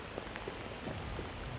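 Heavy rain pours down in a steady, dense hiss with no break, close and loud enough to fill the whole scene.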